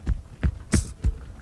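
A fingertip taps on the body in a steady, heartbeat-like rhythm, with four dull, low thumps at close range and no talking.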